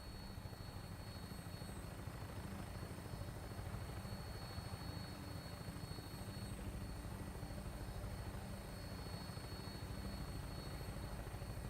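Helicopter rotor and engine in Fallout 4, a steady dense throbbing drone with a thin high whine on top, constant and unbroken with no talk.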